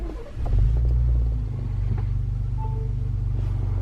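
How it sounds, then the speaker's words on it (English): A Ford F150 pickup with an auto start-stop eliminator fitted cranks and fires up, settling into a steady, deep idle rumble close by. "let's start the truck up"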